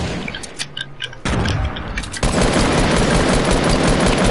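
Video game gunfire: scattered shots and faint clicks at first, then heavy, dense bursts of automatic fire and booms that swell into a continuous loud barrage.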